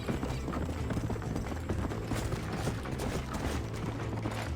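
A horse gallops in the game Red Dead Redemption (2010), with fast rhythmic hoof clip-clops, tack rattling and wind, loud and continuous.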